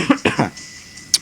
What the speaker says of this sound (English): Just need to clear my throat.